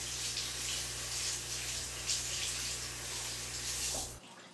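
Tap water runs steadily and close by as a baby washcloth is rinsed out in a sink, a continuous hiss that stops abruptly near the end.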